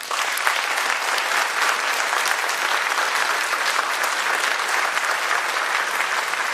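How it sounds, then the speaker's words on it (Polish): Steady, loud applause fills a congress hall during a charity concert, a full audience clapping continuously throughout with no voices on top. "to dla nich również ogromne brawa."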